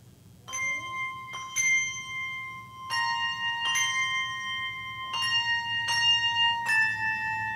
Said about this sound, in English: I'm going to play the missing bells, so they will not have a conductor for this.